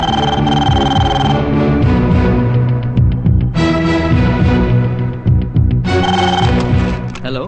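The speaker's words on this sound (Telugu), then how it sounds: "Gita, call for you." A telephone rings loudly and continuously in a Telugu film scene, its repeating ringtone tones carrying on without a break and with no talking over it.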